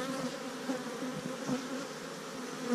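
Honey bees from a colony cutout in Monument Valley hum in a dense, continuous swarm buzz that stays fairly soft and even throughout, with no talking.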